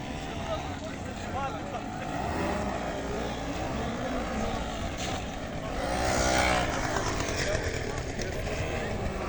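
Honda scooters ride past at a springtime motorcycle meet, a continuous engine drone that swells as they pass close by, with people talking in the background.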